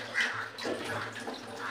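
Water running from a tap at a kitchen sink while a small load of dishes is washed, a soft steady stream with faint clinks, quiet and close, no voices.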